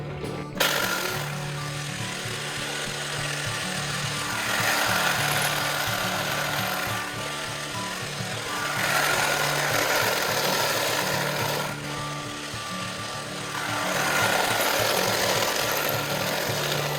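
A lapidary machine runs through the final polish of Mookaite stone, giving a steady, loud mechanical grinding drone with a rhythmic swell in intensity every few seconds, close by and with no talking.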